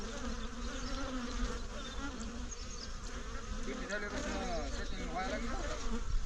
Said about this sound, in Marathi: तर मधमाशीची पेटी ठेवली आपण